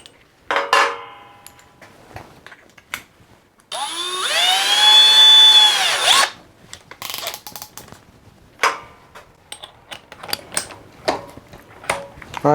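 Milwaukee M18 Fuel Gen 4 and Hercules 20v brushless hammer drills on speed 1 strain to drive a large lag screw, with a loud sustained motor whine lasting about two seconds amid scattered knocks and clatter.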